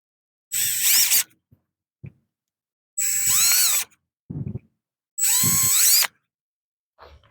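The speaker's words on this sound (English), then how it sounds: "grab a very small drill bit and just drill the end of that crack" A power drill with a very small bit bores into a cracked plastic trimmer fuel tank in three loud, close bursts of whining spin, each with shifting pitch as the bit bites, separated by short pauses and handling clicks.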